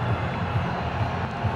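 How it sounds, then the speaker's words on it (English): A cricket crowd at a PSL 2017 playoff between Karachi Kings and Peshawar Zalmi applauds Kamran Akmal, a continuous broad wash of stadium applause and crowd noise that stays fairly loud and steady. "But he gets a nice applause and a shake of the hand from Kamran"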